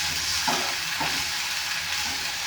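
Chicken and onions frying in oil in a pan, a steady close sizzle and hiss broken by a couple of soft scraping stirs.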